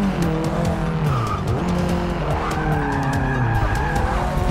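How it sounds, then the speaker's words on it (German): Tires skid and squeal continuously in the racing game Forza Motorsport 6, likely under a Renault 5 Turbo, with a loud engine droning beneath the sliding screech throughout. "Aber so viel rutschen sollte ich halt nicht."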